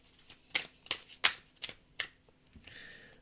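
Tarot cards being shuffled by hand in a quiet room: five or six crisp riffling bursts in quick succession, then a softer smooth sliding sweep at the end, close and fairly loud with no talking.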